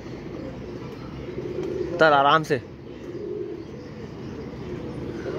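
A pigeon gives one short warbling coo close by, set against outdoor background noise, with someone speaking softly around it.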